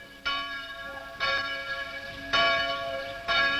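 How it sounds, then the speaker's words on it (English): Church bells ring from Lutheran steeples across the Barossa Valley in South Australia, four resonant strikes at roughly one-second intervals, each with a long bright ringing decay; no voices. "you've heard the bells ring out across this valley from the Lutheran steeples of the churches"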